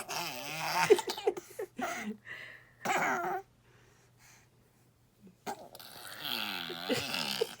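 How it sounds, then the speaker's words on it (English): A seven-month-old baby blows wet raspberry noises with his mouth, several sputtering bursts separated by pauses, close and fairly loud, with no words spoken. "It's like farting from his mouth."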